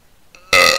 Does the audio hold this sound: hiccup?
yes